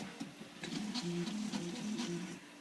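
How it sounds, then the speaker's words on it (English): A heavily modified Prusa iteration 2 3D printer runs nearby, its stepper motors whining in shifting tonal patterns with soft ticking, steady and fairly quiet. "here's a prusa iteration 2, heavily modified"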